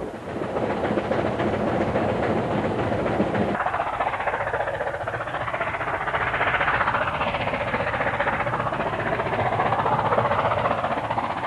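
A heavy steam train hauling about 1,200 tons thunders along a main line nearby, a loud, unbroken rumbling roar with rhythmic working beneath it that swells slightly toward the end.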